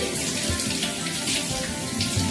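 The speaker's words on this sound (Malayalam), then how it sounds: "ചട്ടിയെല്ലാം ഒന്ന് ജസ്റ്റ് വെള്ളത്തിൽ കഴുകിയെടുക്കാം" Steady running water splashes continuously as a new clay pot is rinsed under a tap, close and fairly loud.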